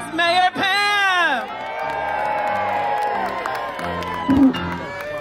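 A hometown crowd at an outdoor Christmas tree lighting cheers, whoops and applauds loudly, with an amplified voice calling out over the noise.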